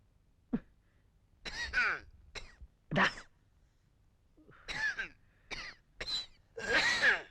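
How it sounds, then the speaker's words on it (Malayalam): Several harsh coughs from a man in separate bursts, fairly close and loud, with short pauses between them and a heavier fit near the end, in a comedy film scene. "നിന്റെ ചുമയൊന്ന് നിർത്ത്"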